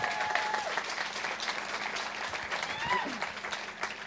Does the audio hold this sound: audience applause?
yes